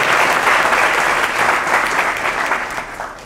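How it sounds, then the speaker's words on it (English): An audience at a spiritual lecture in Delhi breaks into steady, energetic clapping, loud and full for a few seconds before gradually thinning out. "I think we should give Grace a round of applause for being so brave and on the journey."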